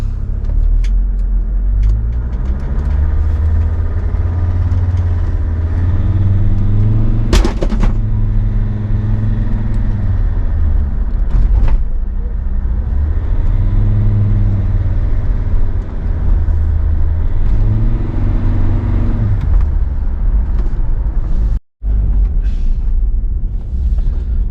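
A Ssangyong Rexton 2 under way on a test drive, with a steady low engine rumble and road drone throughout, rising and falling with gentle revs, plus a few brief knocks and a sharp momentary dropout.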